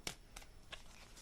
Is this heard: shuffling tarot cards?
yes